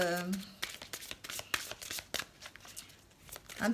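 Oracle of transformation cards being shuffled close up, a rapid run of papery riffles and slaps with a voice speaking briefly at the start and end.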